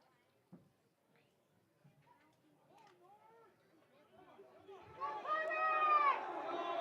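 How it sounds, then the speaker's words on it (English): Crowd at a Lakeland high school football game between the Hurley Northstars and Grantsburg Pirates swells into loud cheering and yelling, starting quietly with scattered voices and rising to a sustained roar over the final two seconds. "You can hear the crowd get into it here."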